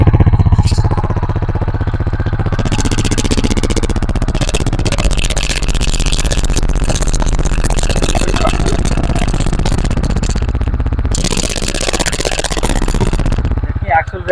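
A Yamaha XSR 155 motorcycle engine runs loud and close, its pitch rising and falling as the throttle is blipped several times, with a voice talking over it.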